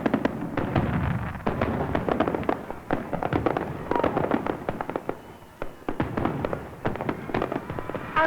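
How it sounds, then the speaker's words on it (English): Fireworks at the 1939 New York World's Fair crackle and burst in dense, rapid volleys of sharp pops and booms throughout, loud and continuous with overlapping reports. "There were fireworks every night,"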